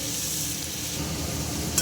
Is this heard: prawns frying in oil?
yes